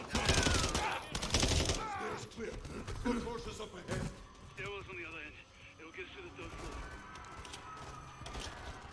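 Bursts of P9 pistol fire in Call of Duty: Modern Warfare III, loud rapid shots early, then scattered impacts and crashes over a busy combat din, with a voice speaking at times.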